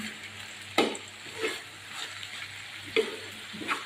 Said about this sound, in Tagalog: Haluin ko lang muna